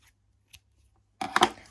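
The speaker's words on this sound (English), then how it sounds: "And now I'm going to cut my yarn." Scissors snip through crochet yarn in a quick, close burst of two or three crisp cuts, after a few faint handling taps in an otherwise quiet room.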